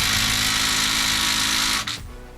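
A small cordless impact driver buzzes continuously against a 13 mm differential cover bolt on a first-generation Ford Raptor, a loud, steady high whir close up that cuts off sharply near the end.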